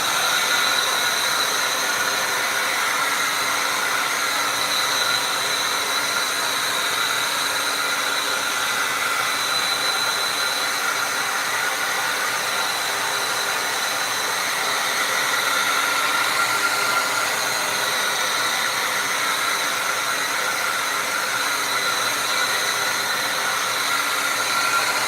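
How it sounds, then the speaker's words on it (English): A hair dryer blows steadily to dry wet acrylic paint on a painting's background, giving a constant, even whoosh of airflow with no breaks for the whole stretch. "I'm gonna get my hair dryer out and dry all this background"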